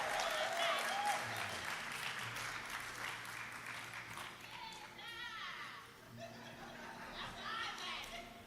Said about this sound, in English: Let's give Mr. Mingo a round of applause,